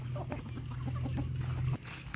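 Chickens cluck in short, scattered calls on a rural duck and chicken farm, heard at moderate distance over a steady low engine-like hum, with no talking.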